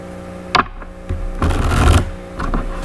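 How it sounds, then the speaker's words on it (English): Bulky tarot cards shuffled by hand, giving a few sharp riffling bursts and a longer flurry of papery rustling over a steady low background hum. "these cards are just bulky and difficult to shuffle sometimes."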